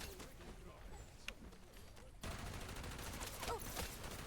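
Bursts of rapid gunfire in the shooter game Wild Assault, crackling volleys that jump louder midway and continue with scattered shots, with faint speech mixed in.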